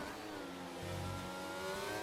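Race cars leave the pit lane at Monaco in a racing video game, a continuous engine drone rising in pitch as they accelerate, moderately quiet and heard alone.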